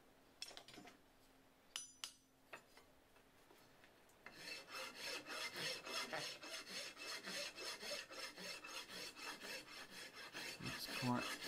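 Hand file rasping steel on a cleaver made from two farrier's rasps: a few separate scrapes first, then a long run of steady, rhythmic back-and-forth strokes, close and fairly loud, with no talk.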